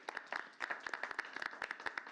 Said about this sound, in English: can we give him a round of applause right now?